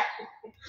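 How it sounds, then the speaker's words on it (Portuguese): A dog barks a couple of times in the background, fairly faint and distant, with short sharp yips. "pelo latido de fundo aí"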